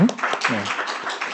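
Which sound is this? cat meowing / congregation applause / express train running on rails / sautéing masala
congregation applause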